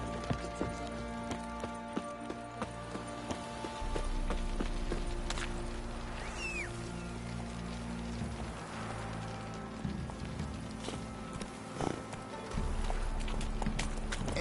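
Roach the horse from The Witcher 3 gallops in a steady, rhythmic clip-clop of hooves, close and fairly loud, over a low game ambience with occasional faint voices.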